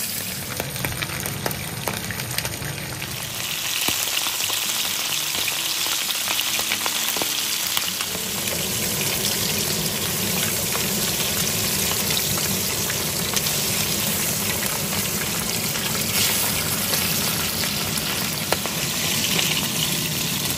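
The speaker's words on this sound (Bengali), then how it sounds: "তেল গরম হয়ে গেছে, এবার আমি একটা একটা করে মাছ ছেড়ে দেব।" Pabda fish fry in a small amount of hot oil, a loud, continuous crackling sizzle that swells after the first seconds and holds steady, close up with no talk.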